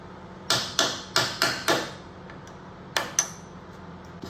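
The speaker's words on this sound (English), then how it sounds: "So we're just gonna use a punch." Seven sharp metallic hammer blows strike a punch to loosen a part while an Indian Chieftain motorcycle rake kit is being taken apart: five fairly evenly spaced strikes, a pause, then two more, close and clear over a quiet room.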